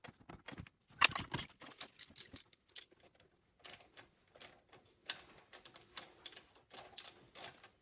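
Green hand ratchet clicking in quick irregular bursts while tightening a bolt on a Honda XR75 motorcycle, close and sharp with short pauses between runs of clicks.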